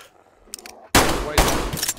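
Gunfire erupts in the survival game DayZ: a quiet, faintly clicking stretch gives way to a sudden loud blast and then a second burst of shots, harsh and close, with no speech.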